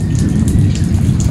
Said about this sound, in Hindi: पहले से मुझे आवाज आ रही है बारिश